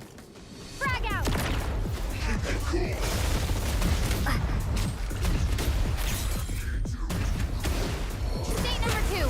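A grenade is thrown and bursts in a shooter video game: a brief swoosh, then a loud, sustained wash of explosive rumble and crackling debris that carries on with gunfire-like bursts and distant voices.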